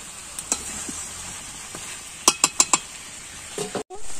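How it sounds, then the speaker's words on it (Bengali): Masala chicken sautés in a pan with a soft sizzle under a cluster of four crisp metallic clinks from the stirring spoon, plus a few quieter taps, close and with no talk. "এটা কষানো হচ্ছে"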